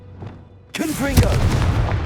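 A Confringo blasting curse in Hogwarts Legacy goes off with a sudden loud boom and rumbling burst that lingers, with faint game sounds before it.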